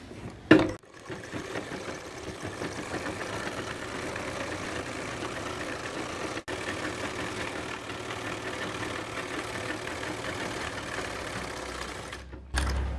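Sewing machine stitching the back seam of trousers near the zip, a steady continuous motor hum and rattle running almost unbroken, with a brief pause midway.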